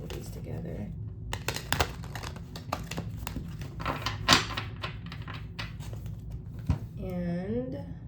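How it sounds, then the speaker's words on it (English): Tarot-style cards are shuffled together in a run of quick crisp riffles and taps, close and moderately loud over a low steady hum, with a voice briefly speaking near the end. "Let's shuffle these together."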